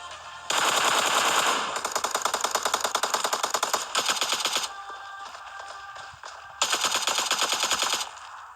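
Automatic gunfire rattles in long rapid bursts in a battle-royale shooting game while an enemy is knocked and finished, with brief pauses between close, loud volleys and no talking.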